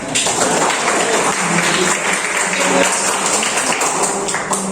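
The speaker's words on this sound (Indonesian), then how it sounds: "Lagi tepuk tangan." A classroom group applauds after a student group presentation in Indonesia, dense steady clapping from many hands filling the room for several seconds.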